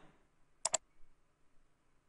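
Quick double click from pressing the F6 key on a computer keyboard, two crisp taps close together, faint and close, otherwise near silence.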